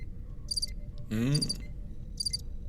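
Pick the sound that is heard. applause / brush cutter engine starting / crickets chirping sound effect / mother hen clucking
crickets chirping sound effect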